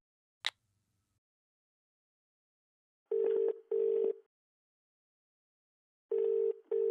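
An unanswered outgoing phone call rings back in pairs of steady electronic tones, two short bursts, a pause of a couple of seconds, then two more, all close and clear in otherwise quiet surroundings.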